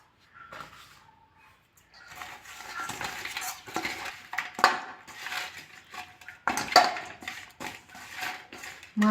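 Fish being coated with salt and turmeric in a bowl for a silver carp and potato curry, heard as close clinks, scrapes and squelchy mixing in an irregular rhythm, with a brief quiet start.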